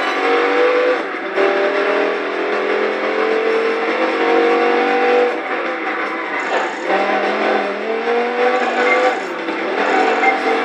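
A Dodge Viper racing around London in Project Gotham Racing 4, its engine droning loud and steady with rising and falling revs through gear changes and bends.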